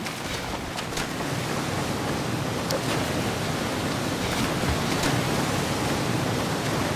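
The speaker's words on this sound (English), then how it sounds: "I do like how loud the waterfall sound is when we get close to it" Loud, steady roar of a waterfall heard up close in a Map Labs Halloween Horror game map, a dense unbroken rush of water holding evenly for the whole stretch with no voices over it.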